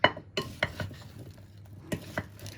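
A wooden spoon stirs and scrapes vegetables for a chicken tray bake in a dish, giving a handful of close, irregular knocks and scrapes with soft rustling between them and no talking.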